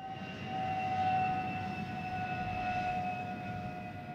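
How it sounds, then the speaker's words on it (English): A steady jet aircraft engine drones with a low roar and a faint sustained whine that stay constant throughout. No one talks. "Jet noise usually has low frequencies associated with this"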